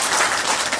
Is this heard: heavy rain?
no